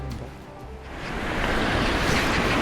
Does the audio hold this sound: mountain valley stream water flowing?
yes